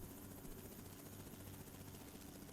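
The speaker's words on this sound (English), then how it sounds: "Why is there a helicopter?" Helicopter rotor noise from American Truck Simulator, a steady loud broadband whir and chop that fills the scene throughout without pause.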